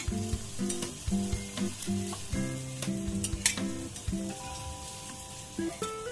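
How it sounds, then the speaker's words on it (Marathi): Anarsa, a sweet rice-flour pastry, frying in hot ghee gives a steady crackling sizzle with occasional utensil taps, plus faint tonal background music running alongside. "आणि आता हा अनारसा आपण तुपात टाकूया"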